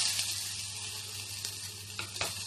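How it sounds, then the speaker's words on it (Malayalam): Onions sizzle steadily in hot oil in a pan, a close, continuous crackling hiss with a few brief louder spatters and soft stirring scrapes. "ഇതിലേക്ക് നമുക്ക് സവാള ചേർക്കാം."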